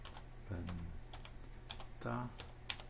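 Login credentials are typed on a computer keyboard while configuring a Pentagram P6363 router, producing quick light key clicks in short bursts, with a voice speaking briefly over them.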